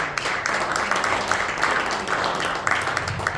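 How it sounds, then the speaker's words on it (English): A big round of applause for three men at a golf club event, dense sustained clapping from a sizeable crowd filling the room throughout. "So how about a big round of applause for these 3 guys?"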